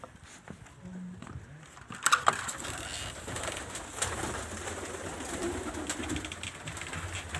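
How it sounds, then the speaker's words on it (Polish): Pigeons coo softly inside a pigeon loft on a snowy winter day, low repeated calls heard close by amid rustling, scattered knocks and general shuffling in the coop. "Trzeci gołębniczek. Też gołąbki siedzą."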